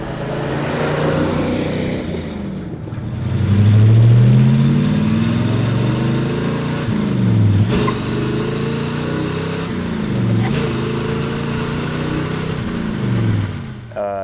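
A classic car accelerating through second gear, its engine loud and close, rising and falling in pitch as it revs, with a steady mechanical roar throughout.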